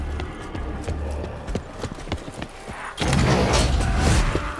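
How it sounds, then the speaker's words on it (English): Horse hooves clip-clop in the game Black Ops 4, a run of sharp rhythmic thuds that gives way to a louder, busier rush of noise near the end. "Wish I could fly like that horse."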